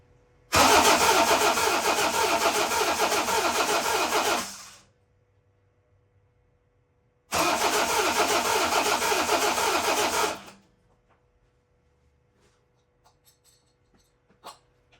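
The engine of a Shelby Cobra replica car under construction cranks in two long, loud bursts of about four seconds each, separated by silence, followed by faint small clicks.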